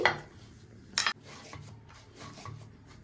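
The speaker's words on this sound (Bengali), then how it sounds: "কড়ার থেকে নিয়ে নিয়েছি গরম গরম এটা জিনিসটাকে ভালো করে একটু মেখে নিচ্ছি" A hand kneads hot coconut pitha dough in a kitchen, making soft rubbing and squishing sounds with a sharp scrape or clatter partway through, close and alone.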